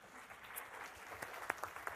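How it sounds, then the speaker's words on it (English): A room of children at a city kids' forum clap for themselves, a dense patter of many hands with sharper individual claps popping out near the end, moderately loud throughout. "I want you all to give yourselves a round of applause for being engaged"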